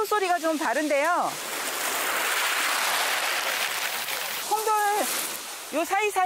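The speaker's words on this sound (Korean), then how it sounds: "파도 소리가 좀 다른데요." Sea waves wash in and out between small round pebbles on a beach at Dumujin on Baengnyeongdo island, a continuous hissing, rattling rush heard up close, with a person talking just before and after it.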